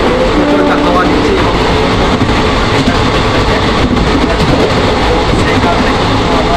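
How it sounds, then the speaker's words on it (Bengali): A moving passenger train on the Howrah to Rampurhat route, heard from a seat inside the carriage as a loud, continuous rumble and rattle with a constant roar. Voices mingle faintly underneath. "ট্রেনের সিটে বসে আছি আমরা, ট্রেন ছেড়ে দিয়েছে আমাদের"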